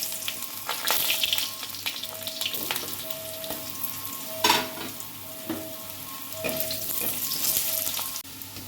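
Potatoes sizzling in hot oil with dried red chilli and five-spice, a steady frying hiss broken by repeated clinks and scrapes of a stirring spoon against the pan.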